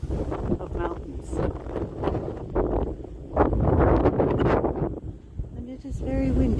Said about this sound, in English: And it is very windy.